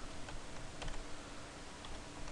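Typing on a computer keyboard during a programming session, soft quick key clicks in an irregular patter, faint and close against a steady background hiss.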